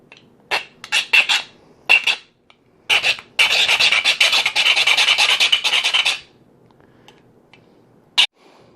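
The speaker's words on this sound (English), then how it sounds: "I just finished filing it down" A hand file rasps against a CZ P09 pistol magazine, first in short separate strokes, then in a fast run of steady back-and-forth scraping, ending with one final stroke.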